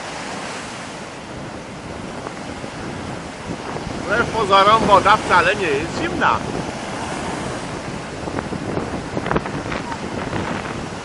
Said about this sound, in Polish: Dlatego na morzu pokazały się olbrzymie fale.